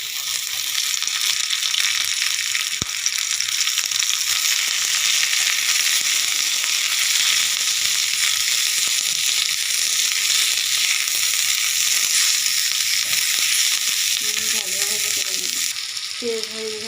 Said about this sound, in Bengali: এর ভিতরে দিয়ে দেব রসুন আর পেঁয়াজ। আমি মরিচের সাথে ভেজে নেব।